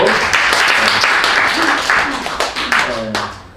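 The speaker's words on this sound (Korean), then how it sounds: "우리 박수 한번 치시고." A church congregation applauds loudly, a continuous burst of many hands clapping that tapers off toward the end, with a few voices mixed in.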